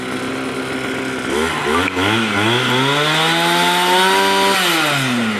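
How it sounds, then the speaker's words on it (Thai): A Kawasaki TH34 brush cutter, a used Japanese garden trimmer, runs close and loud. It starts at a lower pitch, then the revs climb smoothly into a high, steady whine before easing off slightly at the end. "เดี๋ยวลองฟังเสียงดูนะฮะ เปิดสวิตช์ดันขึ้นบน เครื่องแน่นๆเลยนะครับ"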